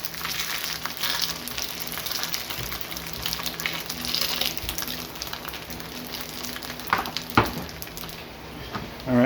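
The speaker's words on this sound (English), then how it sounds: "My pan is smoking and ready to go, so I'm going to drop my steak inside." A wagyu flat iron steak sears in a smoking hot pan, giving a steady loud sizzle throughout with a few sharper pops and spatters near the end.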